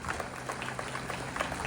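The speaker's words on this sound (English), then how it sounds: "let's give all them a round of applause tonight" Applause from an audience for local elected officials at an annual burger gathering, a steady even wash of clapping with faint crowd murmur throughout, fairly distant and soft.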